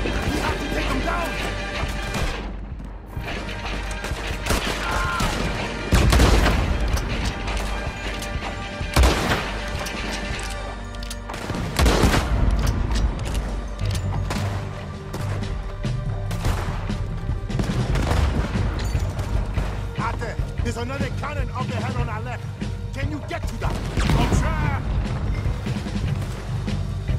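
Gunfire in Red Dead Redemption 2 cracks out in repeated loud shots and crashes at irregular intervals, mixed with voices talking and game noise throughout.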